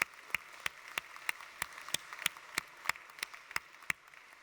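A few hands clap at a plenary panel session, sparse and evenly spaced, roughly three claps a second, crisp and fairly close with no talk over them.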